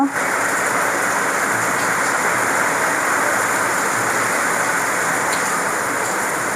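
A steady, dense hiss of falling rain, loud and unbroken from start to finish, with no pauses.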